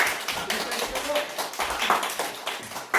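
A church congregation applauds during a Sunday service, with dense, even clapping filling the whole moment and voices mixed in underneath.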